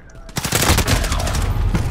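Loud automatic gunfire in Call of Duty: Modern Warfare, a sustained rapid burst of close, heavy shots that kicks in after a brief quiet start and hammers on steadily to the end.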